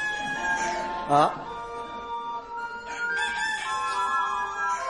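A rooster crows once in a short, loud call set in a radio drama, standing out briefly against other background sounds.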